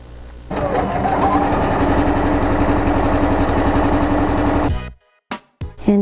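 A sewing machine stitches pieced quilt blocks in one loud, steady burst of rapid needle chatter lasting about four seconds, then stops, followed by a few short handling knocks.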